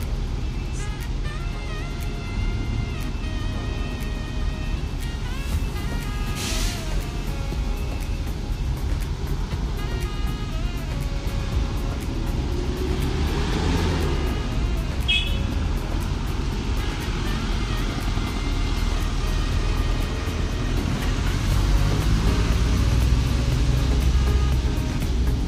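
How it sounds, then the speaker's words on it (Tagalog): A motorcycle and then a large truck roll off a ferry on the Davao to Samal crossing, heard as a steady low engine rumble with mechanical clatter that slowly grows heavier and closer, set against constant harbour and vessel noise. "Ayan, lumabas na yung isang motor. Then, susunod yung isang malaking truck."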